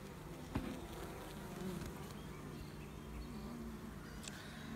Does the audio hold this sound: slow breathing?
no